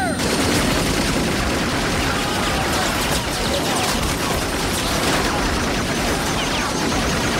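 Heavy gunfire in a 1994 action movie trailer, a continuous loud barrage of automatic shots and rapid cracks filling the whole stretch with dense, unbroken noise.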